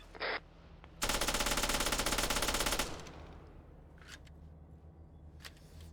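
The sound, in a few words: Vickers machine gun firing in a video game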